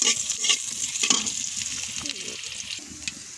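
Fish curry sizzling and frying in a small amount of oil while being stirred, steady crackle with scraping stir strokes throughout, close and moderately loud.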